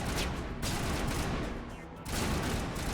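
Sustained gunfire in Mass Effect Legendary Edition, a dense, continuous stream of rattling shots with a brief lull near the end before the firing resumes, with no talk.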